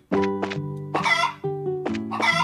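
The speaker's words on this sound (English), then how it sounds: "Chickens!" Game chickens cluck in Trails in the Sky FC on a farm: a few loud, close, harmonic squawks in short bursts, with no talk over them.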